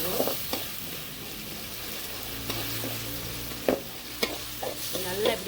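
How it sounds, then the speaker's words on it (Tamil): Ginger garlic paste and tomatoes frying in a pan for egg gravy, with a steady sizzle under repeated sharp scrapes and clacks of a spoon stirring, several distinct strokes spaced across the clip. "அதனால நல்லா கிளறி விட்டுருவோம்"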